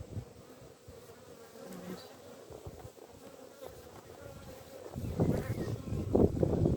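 Bees buzz steadily around an open beehive during an inspection, as new undrawn comb frames are set into the hive; the droning hum is close and continuous, with handling noises and a louder rustle near the end.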